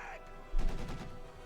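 A short burst of heavy machine gun fire in the strategy game Company of Heroes 2, a brief rattling volley in the middle, moderately loud.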